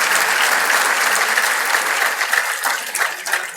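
An audience at a youth awakening mission event addressed by a state governor claps loudly and continuously, a dense wash of applause that stays strong throughout.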